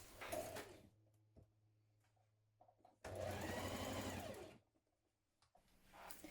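A sewing machine stitches a seam on a children's dress from a McCall's 5613 pattern, running in two steady whirring bursts separated by a quiet pause, with faint handling noises in between.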